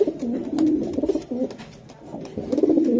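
Light silver racing pigeons coo in a low, rolling rhythm, the throaty calls repeating steadily and close by with faint rustling around them.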